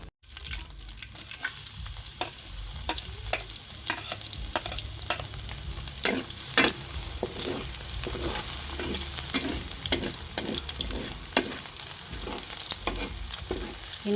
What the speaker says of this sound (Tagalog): Hinigisa na po yung bawang.